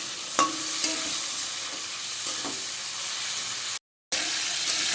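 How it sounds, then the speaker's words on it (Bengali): Shrimp frying lightly in a pan, a strong steady sizzle with a few stirring scrapes and clicks, close and loud, broken by a short silent gap near the end. "আমি চিংড়ি মাছটা হালকা করে ভেজে নেব বেশি ভাজব না"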